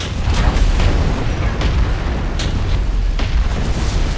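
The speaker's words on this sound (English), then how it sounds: "Cannons! Blast these scurvy dogs to bits!" Ship cannons firing in World of Warcraft's Freehold pirate dungeon: a steady loud rumbling barrage with several sharp booms spaced across it, dense low-end roar throughout.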